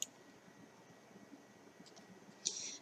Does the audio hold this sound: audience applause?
no